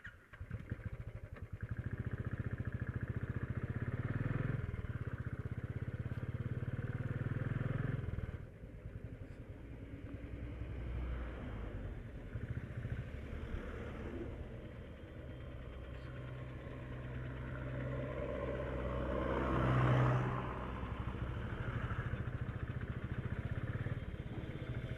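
A motorcycle rides along a road during the monsoon on a trip from Bhuj toward Lonavla and Goa, its engine droning steadily with wind rush, shifting in pitch and loudness as it moves.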